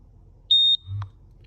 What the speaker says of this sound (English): press the power enter button and hold it for 3 seconds until it beeps